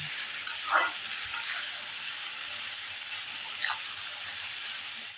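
Vegetables stir-fried uncovered in a kadhai over a high gas flame for idli chilli give a steady, moderately loud sizzling hiss. A couple of brief scraping stirs stand out over it.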